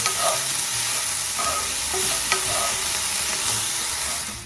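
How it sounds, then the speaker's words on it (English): Peppers and onions sautéing in a pan give a steady, close sizzle with occasional scrapes and clicks of stirring, continuous and alone without voices. "I'm going to saute these until tender."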